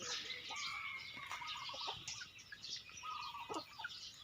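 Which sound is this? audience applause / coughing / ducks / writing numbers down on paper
ducks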